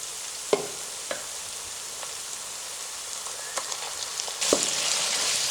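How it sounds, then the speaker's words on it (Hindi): Steady soft sizzling of minced beef frying in a pan, with occasional clinks and scrapes of a utensil stirring, growing slightly louder near the end. "कीमे को भून लेते हैं।"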